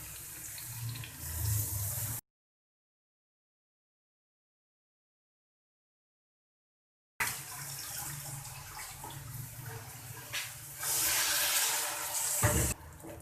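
Water splashes and streams into a pan of potatoes and eggplant for aloo baingan curry, heard in two bursts separated by a stretch of silence, close and fairly steady.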